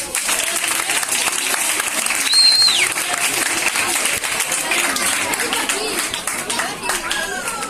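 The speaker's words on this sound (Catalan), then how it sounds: "Un fort aplaudiment per als alumnes de primer d'ESO" A school audience applauds first-year secondary students after their body percussion performance, with sustained dense clapping throughout, some cheering and voices mixed in, and a brief whistle-like tone.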